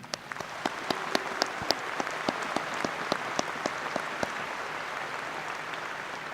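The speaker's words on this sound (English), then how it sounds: "Let's have another round of applause for the class of 2018" Graduation ceremony audience applauding the class of 2018, a full, sustained burst of clapping from a large crowd with distinct close claps popping out over the steady wash.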